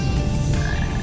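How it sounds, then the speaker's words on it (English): Frogs croak loudly and continuously in Frog Forest in Sonic Heroes, a dense, close chorus of low, throaty croaks with nothing else over it. "if these frogs see you, they make it rain"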